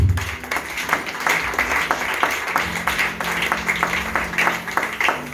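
A church congregation claps rhythmically and steadily throughout, with sharp repeated hand claps over a sustained low tone and a busy room.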